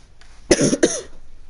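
A single sharp cough with a short second burst, close and fairly loud, in an otherwise quiet setting.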